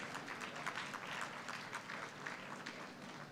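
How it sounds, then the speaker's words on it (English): Conference audience at an international conference on world religions in Lahore applauding, a fairly quiet, even wash of many hands clapping at a slight distance for several seconds. "Round of applause, please,"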